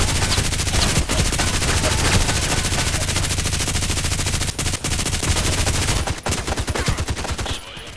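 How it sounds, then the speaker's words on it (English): Sustained automatic fire from an RPK machine gun in the Contract Wars shooter game, dense rapid bursts running nearly continuously and loud, with a few brief gaps near the end. "I get slowly used to the machine gun again"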